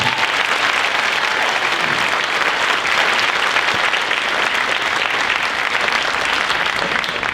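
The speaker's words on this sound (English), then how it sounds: "so one more round of applause for Avery." Loud, dense audience applause at a middle school band winter concert, a continuous wash of many hands clapping for the whole stretch with no talk over it.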